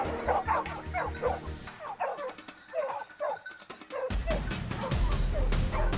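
A hunting dog barks and yips excitedly at a wild boar cornered in dry southern woods, repeated sharp barks with whimpering, mixed with rustling and rougher noise partway through.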